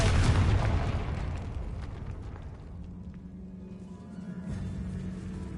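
A Confringo spell detonates in a decayed catacomb in a fantasy video game, a loud booming blast at the start that rolls into a long rumbling decay with lingering low reverberation.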